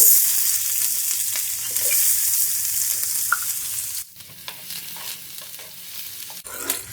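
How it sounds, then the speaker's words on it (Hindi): Medium onion sizzling in hot ghee or oil in a pan: loud, bright frying hiss that drops abruptly midway, then quieter sizzle with stirring clicks before flaring up again near the end. "अब हम इसमें एक मीडियम साइज का प्याज लेंगे, वो ऐड करेंगे।"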